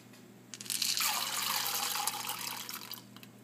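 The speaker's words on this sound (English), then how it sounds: "Now my helper is going to pour in the 1/2 cup of chocolate chips." Chocolate chips poured into a pan of melted mixture for marshmallow hot chocolate, giving a steady close-up rattling hiss that lasts about two and a half seconds over a faint low hum, with no talking.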